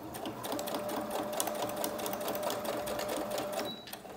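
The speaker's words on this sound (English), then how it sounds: "So I'll just then stitch straight through that with just that straight stitch" Domestic sewing machine running a steady straight stitch through lace onto a paper junk journal label, a continuous close, even mechanical whir lasting several seconds before easing off.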